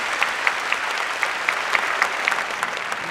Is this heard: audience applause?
yes